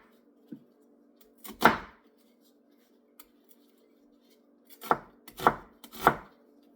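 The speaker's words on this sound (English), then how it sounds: "let's get these onions diced up" A knife dices onions on a cutting board, firm chopping thuds in short bursts: one near the start and a rapid cluster of three or four toward the end, with quiet gaps between and no talk.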